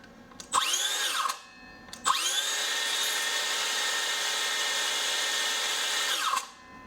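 A Makita DHS680 18V brushless cordless circular saw, 165 mm blade, whines up in two trigger pulls: a short burst, then a longer steady high-pitched run before winding down, loud and close with no talk.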